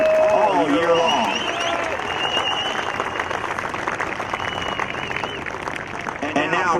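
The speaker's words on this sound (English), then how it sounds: "Let's give the Blue Hens a round of applause for their outstanding play all year long." Crowd applause at the 2018 CAA field hockey championship ceremony for the runner-up Delaware Blue Hens, a steady broad wash of clapping that holds for the whole stretch with voices mixed in.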